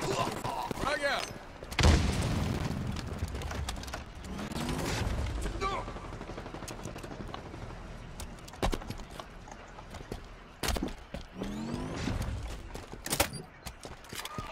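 Rapid gunfire and a sharp explosive burst from a thrown frag grenade in the video game Halo Infinite, with repeated clattering shots and thuds spread across a busy, loud combat mix where a player speaks.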